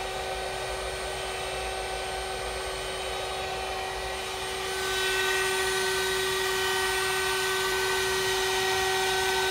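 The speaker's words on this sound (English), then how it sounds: "Not cutting yet, so just a spindle on its own." A CNC spindle spinning freely at about 23,000 rpm without cutting, a loud, steady high-pitched whine with a strong constant tone, growing slightly louder partway through.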